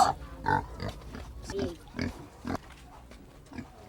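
Pig on a Philippine farm being raised on hog starter and grower feed, giving a few short, close grunts at irregular intervals, with people talking around it.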